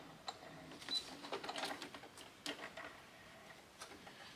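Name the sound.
sewing machine backstitching a tote bag seam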